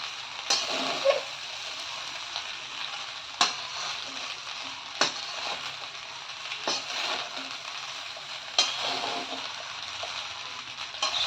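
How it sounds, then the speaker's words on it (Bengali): Rice tossed with spices and salt fries in a pan, giving a broad soft sizzle with a few sharp spoon scrapes and knocks at intervals, steady and close with no voices. "ভাত ভাজা যেরকম হয় ওরকম একটু ভেজে নেব"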